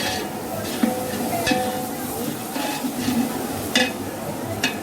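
Onion roasting in a pan for a traditional Alibaug chicken dish, with a steady low sizzle and intermittent stirring scrapes and light clinks of a utensil against the pan, heard close throughout the clip.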